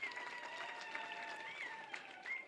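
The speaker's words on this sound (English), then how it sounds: "Can we give him another round of applause" An audience at an official repatriation ceremony applauds steadily for a couple of seconds, a faint, distant clapping wash with some tonal background noise.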